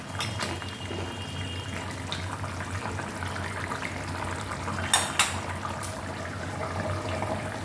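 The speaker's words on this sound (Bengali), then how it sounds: "এটা ভালোভাবে একটু ফুটুক আর একটু জল দিয়ে দিই, একটু ভালোভাবে ফুটুক" A pot of papaya curry with added water simmers on the stove, a soft continuous bubbling with light clinks of utensils against the pot and a couple of sharper metallic taps midway.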